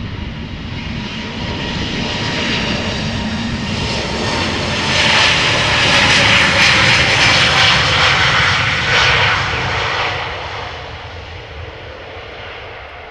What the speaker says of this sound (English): let's zoom in first to the Vueling A320neo with destination Bilbao